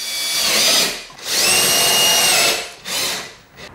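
A power drill drives screws through angle trim and plasterboard into a rail for a suspended ceiling, whining in three bursts, two long and one short, loud and close with brief pauses between.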